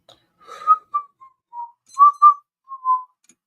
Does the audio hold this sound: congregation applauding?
no